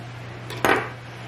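A knife slices an avocado in half with one short, close cut and a light tap on the board, set against a quiet, steady hum.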